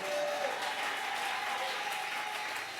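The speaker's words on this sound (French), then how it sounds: "quelqu'un m'acclame le Seigneur Jésus" A church congregation applauds during a worship service, a dense, steady wash of clapping that carries evenly from start to finish with no voice rising above it.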